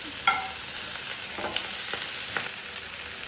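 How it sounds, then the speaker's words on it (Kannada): Cumin seeds fry in hot oil with a faint, steady sizzle and a few soft pops and crackles, close by. "ಜೀರಿಗೆ ಹಾಕೋಬೇಕು. ಫ್ರೈ ಮಾಡ್ಕೋಬೇಕು."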